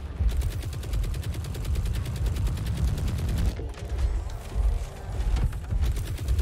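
Rapid automatic robot gunfire in the video game WR Frontiers, sustained fast rattling bursts with brief pauses between strings of shots, loud and dense throughout, with no talk.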